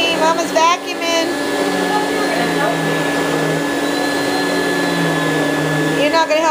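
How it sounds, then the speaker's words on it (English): A household vacuum cleaner runs with a steady, loud whine throughout, with a small dog's whimpers and a person's voice faintly over it at the start and end. "Penny, Mama's vacuuming."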